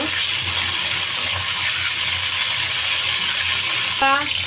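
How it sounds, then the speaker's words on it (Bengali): Cauliflower sizzles and crackles steadily in hot oil, a constant close frying hiss, with a brief voice at the very end. "ফুলকপিটা তেলে ভেজে নিব এখন সুন্দর করে।"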